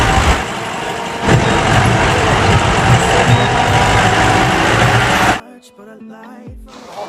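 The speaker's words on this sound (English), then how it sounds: "My car is just struggling to go through this path." A car engine labours up a steep mountain path, a loud, sustained rumbling drone close to the listener that cuts off abruptly near the end, leaving quieter background sound.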